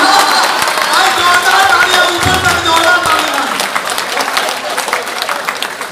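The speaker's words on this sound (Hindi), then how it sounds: "तालियां जोरदार" A crowd at a Holi comic poetry gathering in Jamshedpur bursts into loud applause, a thick, steady clatter of clapping with a voice speaking over it.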